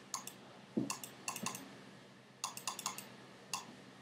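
A computer mouse clicks sharply and faintly in small clusters, several quick taps spread over a few seconds in a quiet room while launching Minecraft.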